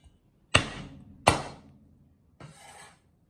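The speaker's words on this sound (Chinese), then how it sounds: "姜也给它拍扁。" Ginger and scallion whites being smashed flat with a blade for a dumpling filling: two sharp, loud whacks about a second apart, then a softer scraping sound, with no talking.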